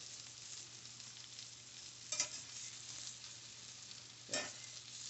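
Egg and home fries frying in a pan, a faint, steady sizzle with a low hum underneath, broken by two short scraping stirs.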